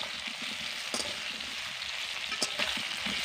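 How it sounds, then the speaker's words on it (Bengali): Raw mango pieces fry in an oil-filled pan, giving a steady close sizzle with a couple of brief stirring scrapes and no voices. "কিছুক্ষণ ধরে আমগুলোকে আমি ভেজে নিয়েছি।"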